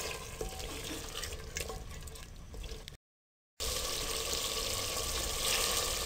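Mutton with yogurt and spices fries in a pot with a steady, dense sizzle and some stirring, broken by a brief silent gap partway through, close and moderately loud.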